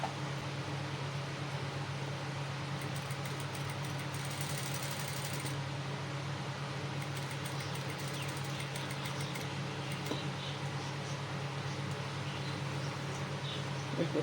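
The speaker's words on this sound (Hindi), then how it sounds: "हम यहाँ पर इसकी सिलाई लगा लेंगे बिल्कुल कोने पर" A sewing machine stitches a side pocket onto a men's kurta, running as a steady mechanical whir with bursts of rapid ticking stitches, close and continuous throughout.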